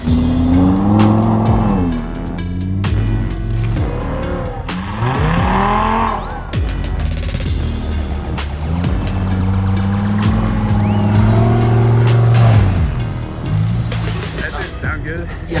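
A Lamborghini spins donuts on ice with almost no traction, its engine revving and droning in long rising and falling sweeps as the tires slip and hiss, close and loud, with people talking over it.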